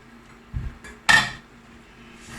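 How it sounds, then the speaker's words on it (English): A pot lid is lifted off a pot of simmering apple and onion chutney, giving a soft knock followed by a brighter metallic clink and a brief rattle, close and quiet with no talk. "I'm going to open the lid,"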